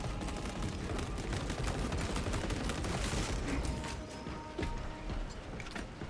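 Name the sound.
heavy bolt rifle fire and grenades in a video game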